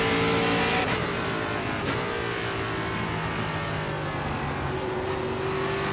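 NASCAR ARCA race car engine in the iRacing game at Watkins Glen, a loud continuous high-revving whine with a steady pitch and brief gear-shift dips, heard alone without talk.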